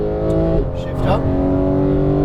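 Porsche GT3 991 on a race track, engine note held steady and then climbing as the throttle is squeezed, a loud continuous tone heard from inside the car, with an instructor's voice talking over it.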